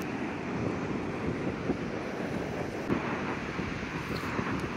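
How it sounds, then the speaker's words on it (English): Wind blowing outdoors during a fishing outing, a steady rumbling buffet across the microphone with low gusty swells, close and continuous, no voices. "That wind says no."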